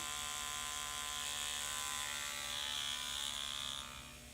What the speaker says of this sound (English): This is deep percussion stimulation that you can't get any other way than with Dr. Riley's Ultra Massager or an equivalent device.